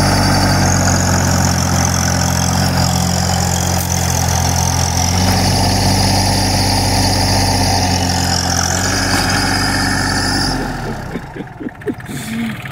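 A Farmtrac Atom tractor engine labours steadily under load while pulling a trolley heavily loaded with about 50 quintals of sugarcane, a loud continuous drone with a rising rev that drops off near the end.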